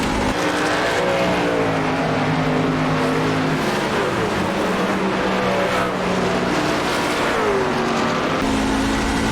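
A Ford F150 race truck on the Bristol oval in iRacing keeps up a loud, continuous engine roar. The pitch rises and dips steadily as the truck feathers the throttle through the laps.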